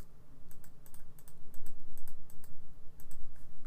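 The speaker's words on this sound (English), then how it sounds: "I'm just going to quickly type this again" Keys on a computer keyboard clatter in quick, uneven runs of crisp clicks, close and clear with no talking.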